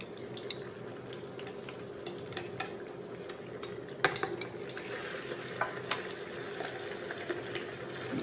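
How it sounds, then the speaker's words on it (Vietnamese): Vegetables fry in a pan on an induction stove with a steady close sizzle, punctuated by scattered clicks and scrapes of stirring. "Giờ mình bắt cái chảo lên bếp từ mình chiên nha."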